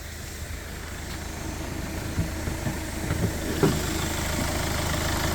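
A 2014 Kia Clarus diesel minivan engine idles steadily with a low, even rumble and a few faint clicks and knocks, no voices.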